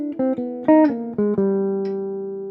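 Guitar lick that pairs the 9th with a power chord shape: a short run of clear plucked notes ending on a held, ringing note that slowly decays, played alone.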